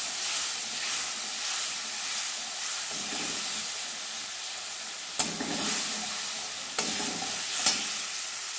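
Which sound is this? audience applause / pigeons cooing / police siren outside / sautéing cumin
sautéing cumin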